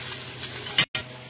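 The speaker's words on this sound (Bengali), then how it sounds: "এবার একটু জল দিয়ে দিচ্ছি।" Water splashes into a hot pan while chicken biryani cooks, a brief burst of sizzling hiss over ongoing frying noise, close and fairly loud.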